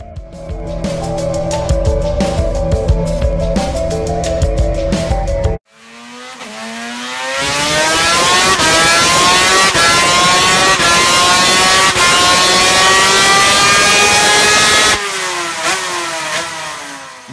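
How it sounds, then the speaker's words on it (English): A Suter MMX 500 two-stroke race motorcycle screams around a racetrack, loud and close, its high-pitched engine rising through gears with a brief cut, then sustained howling revs and shifts, no talk. "enjoy the sights and sounds of this slightly chubby 39-year-old journalist going around the Redstar racetrack on a Suter 500"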